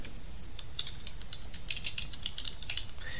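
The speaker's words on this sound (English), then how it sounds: "We'll just type in any name here" Keys tapped on a computer keyboard while entering a name into a software setup screen, a quick irregular run of light clicks heard close and alone over a faint steady background.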